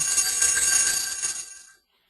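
A single bright bell rings close by in a classroom, its metallic tone sustaining before fading out to silence.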